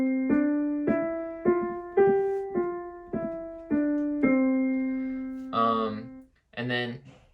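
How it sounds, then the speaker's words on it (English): A piano plays a series of smoothly connected legato notes, each sustained into the next in an even, steady line, followed by a short stretch of a voice speaking at the end. "legato is when you play a series of notes and it's completely connected. There's no breaks."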